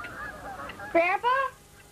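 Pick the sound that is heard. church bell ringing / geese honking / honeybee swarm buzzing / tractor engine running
geese honking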